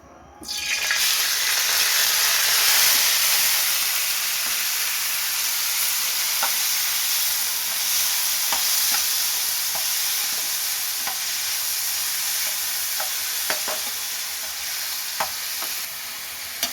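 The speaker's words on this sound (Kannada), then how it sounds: "ಅದು ತುಪ್ಪದಲ್ಲಿ ಹಸಿ ಸ್ಮೆಲ್ಲೆಲ್ಲ ಹೋಗೋವರೆಗೂ ಚೆನ್ನಾಗಿ ರೋಸ್ಟ್ ಮಾಡ್ಕೋಬೇಕು" Grated bottle gourd roasting in ghee for halwa, a steady close sizzle with repeated scraping stirs of a spoon against the pan, no voices.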